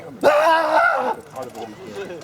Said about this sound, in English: I like screaming bloody murder